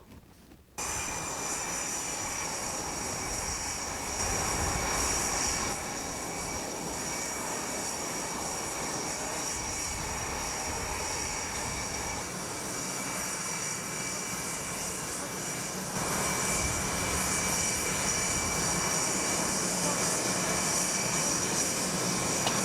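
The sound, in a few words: airplane engine running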